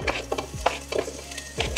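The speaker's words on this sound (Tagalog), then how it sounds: "So, sibuyas muna, igisa natin." Onions for sopas sauté in a pan with a close, crackling sizzle, repeatedly punctuated by quick spatula stirs and scrapes against the pan, and no voices.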